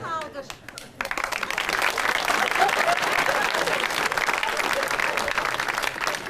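A studio audience at a comedy show breaks into sustained, dense applause that fills the room at a steady level, following a few moments of someone speaking.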